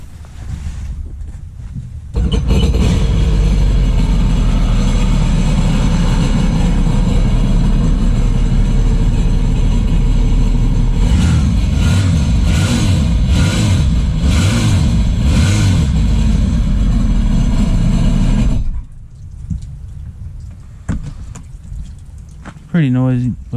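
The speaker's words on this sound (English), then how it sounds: "give you all a sound comparison on that stock exhaust" A Sea-Doo Spark personal watercraft with stock exhaust runs loud and close, its engine droning steadily then rising and pulsing with revs before cutting off, with voices nearby.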